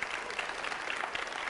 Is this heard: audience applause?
yes